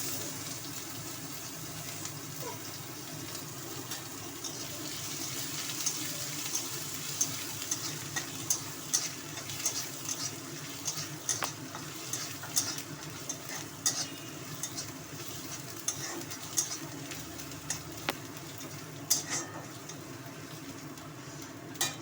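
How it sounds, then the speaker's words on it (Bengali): Spices and ginger fry gently in oil in a home kitchen pan alongside dried red chillies and bay leaf, a soft continuous sizzle with scattered pops and stirring clicks throughout. "মশলাটা ভাজা ভাজা করে নিয়েছি।"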